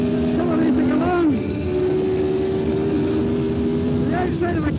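A 1978 Formula 1 car accelerating hard along the track, its loud engine whining with rising pitch sweeps and a gear change, steady and close throughout.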